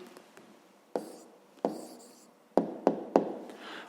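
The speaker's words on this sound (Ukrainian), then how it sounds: "записуємо відповідь" An answer being written by hand for a fifth-grade maths exercise, heard as a soft continuous scratch with several sharp taps of the pen against the page, close and quiet, with no voice.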